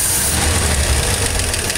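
A 1949 Chevrolet Stovebolt six-cylinder engine idles steadily, with a continuous even rumble and mechanical clatter, loud and close, with no voices.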